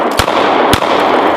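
Two sharp gunshots from a Smith & Wesson M&P 9mm 2.0 pistol fired at a clay pot crack out about half a second apart, loud and close.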